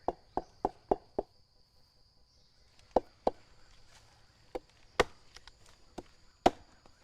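A person taps the trunk of an agarwood tree to check for hollowness: sharp knocks in a quick run of five, then scattered single taps, close and distinct over a quiet outdoor background with a steady insect hum.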